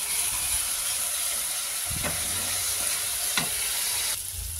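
Spice paste frying in hot oil in a pan, a loud continuous sizzle and hiss with a few soft stirring scrapes, close and alone without talk.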